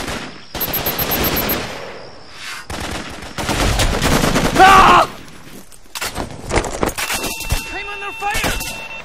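Rapid bursts of gunfire and explosive blasts from the Xbox 360 squad shooter Raven Squad, loud and dense throughout, with shouted voices mixed among the shots.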